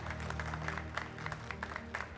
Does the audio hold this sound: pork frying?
no